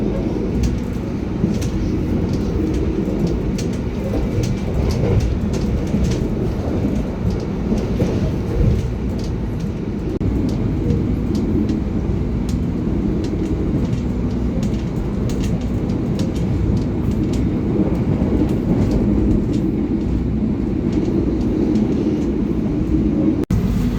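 An economy passenger train in Central Java running through a station without stopping, heard from inside the carriage as a loud, steady rumble with rhythmic clatter of wheels on rails throughout.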